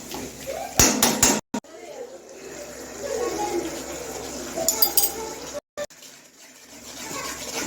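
Tomato ketchup and salt stirred into a pan for aloo 65, with clinking and scraping of a spoon against the pan, intermittent and close, while a person talks.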